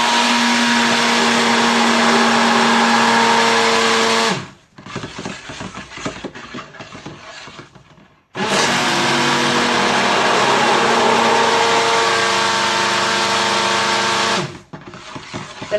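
A blender whirs loudly mixing charcoal soap batter made with beer, running in two long steady bursts with a quieter pause of rattling and handling between them.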